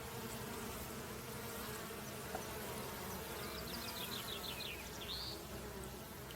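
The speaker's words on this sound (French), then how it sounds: "Tu t'approches encore un peu, et là tu commences à entendre les abeilles" Bees buzz softly while foraging in bright sunshine outdoors, a faint continuous hum with a few closer passes near the end, alone without talk.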